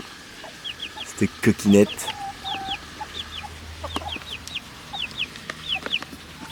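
Chickens cluck and peep repeatedly at close range, a busy flock whose short calls keep coming while a person speaks briefly over them.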